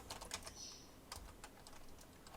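Fast typing on a computer keyboard, a quick run of close, crisp key clicks in uneven bursts with brief pauses, heard alone.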